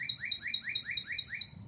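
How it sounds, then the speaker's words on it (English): Birds chirp outdoors in a steady run of quick, high, repeated tweets, about five or six calls per second-and-a-half, fairly close and clear over a faint low background hum. "the birds are going crazy"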